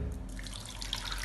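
Water runs steadily from a tap into a pan for making jaggery syrup for unniyappam, a continuous close splashing flow with no talk over it.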